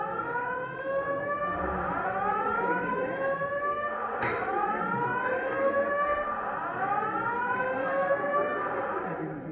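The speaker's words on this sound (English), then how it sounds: "siren." A wailing siren rises and falls in repeated sweeping cycles, loud and steady throughout.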